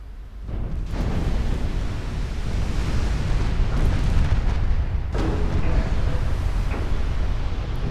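A battleship explodes and sinks in the naval video game Ultimate Admiral Dreadnoughts, a loud, sustained rumbling roar of detonation with sharp bursts near the start and around five seconds, playing alone without voices.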